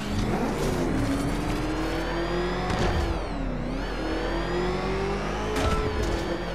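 Batmobile driving in Batman: Arkham Knight, its engine roaring loud and steady throughout and revving up and down with shifting pitch, with no speech over it.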